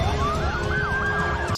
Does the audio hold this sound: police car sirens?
yes